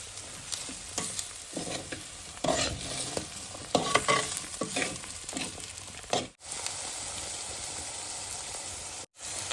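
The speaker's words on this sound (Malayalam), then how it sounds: "നന്നായിട്ടൊന്ന് ഇളക്കി കൊടുക്കാം. ഇങ്ങനെ ചെയ്യുമ്പോൾ നമുക്ക് നമ്മുടെ ഈ കൂണും ചെറുതായിട്ടൊന്ന് ഫ്രൈ ആയി കിട്ടും." Mushrooms fry in a pan for an Indian mushroom roast while a spoon stirs them. Repeated scraping strokes and a soft crackling sizzle run through, with two brief dropouts.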